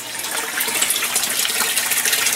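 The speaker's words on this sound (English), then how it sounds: "it creates a nice steady stream down here that does a great job of oxygenating the sump tank" Water from an aquaponics bell siphon overflows and pours in a steady splashing stream down into a sump tank, close and continuous with no talking.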